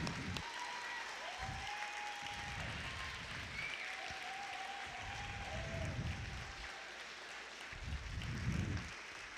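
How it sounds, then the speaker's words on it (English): Sustained audience applause at a fire academy graduation ceremony, dense clapping held at a steady level, with occasional low thumps and a faint voice underneath. "Let's give them a big round of applause"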